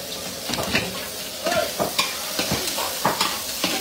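Garlic and onion frying in a pan for dinuguan, a Filipino pork blood stew, with a close, steady sizzle and repeated scraping stir strokes.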